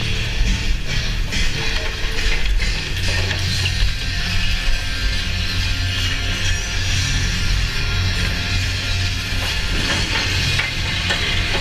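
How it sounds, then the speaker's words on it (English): A six-seat chairlift, the Stella Six Pack at Schweitzer Mountain in Idaho, runs at its base station with a steady mechanical rumble, whirring bullwheel and intermittent clanking of chairs passing through, loud and continuous. "It's the only six-seat chairlift in Idaho State."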